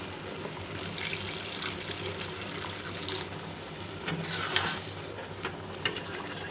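Water is poured into a cooking pan of ghugni after fried coconut has been added, giving a steady close splashing and gurgling stream that runs throughout at moderate loudness.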